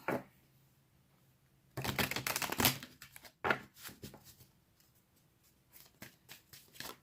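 Crisp riffling of tarot cards being shuffled in quick bursts, with a few separate snaps and taps afterward, close by in a quiet room.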